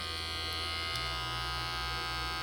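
Hair clippers hum with a steady, low electric buzz that stays even and fairly quiet throughout, with nothing else heard.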